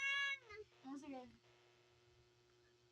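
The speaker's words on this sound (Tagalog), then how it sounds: "Pusa." A cat meows loudly up close, a long drawn-out call followed by a shorter one, with a steady electrical hum underneath and a person speaking briefly.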